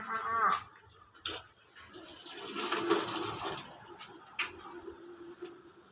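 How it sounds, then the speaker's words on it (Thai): Running tap water splashing as a spoon is rinsed in a home kitchen, a soft continuous wash broken by a few light metallic clinks and taps. "ขอล้างช้อนหน่อยนะคะ"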